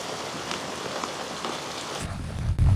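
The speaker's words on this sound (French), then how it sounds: "Il pleut à verse." Heavy rain pours down in a desert setting, a steady dense hiss of drops on surfaces, with a louder low rumble and closer splashing near the end.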